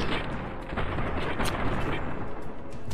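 Dense, loud gunfire in the video game Fallout: Tale of Two Wastelands, overlapping booming shots packed into a continuous barrage with heavy low rumble, with voice talk mixed in.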